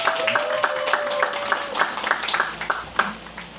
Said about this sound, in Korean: 자기 자신한테 박수를 한번 보내주세요